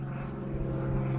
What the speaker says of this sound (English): there's a weird airplane flying overhead